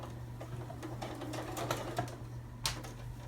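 A sewing machine stitches around a fabric water bottle cover, back-stitching at a stress point: a steady mechanical whir with soft rapid ticking, fairly close and moderate in level, with a few sharper clicks and no talk.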